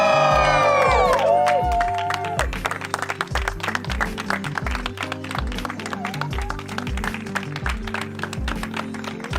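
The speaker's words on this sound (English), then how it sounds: "one big cheer for Marvin Lee." A crowd at a live event cheers and applauds continuously, with dense clapping over steady music and a loud, sustained roar of whoops and shouts.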